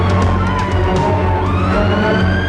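Ambulance siren wailing loudly and continuously at the World Trade Center rescue scene, a dense, sustained rise-and-fall tone filling the whole moment with heavy background noise.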